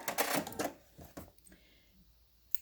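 A sewing machine back stitches fabric in a few short, quiet mechanical bursts before falling nearly silent.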